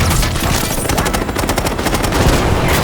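Dense, continuous automatic gunfire from the video game Call of Duty Black Ops 6 roars loudly and without pause, rapid bursts piling into a fusillade.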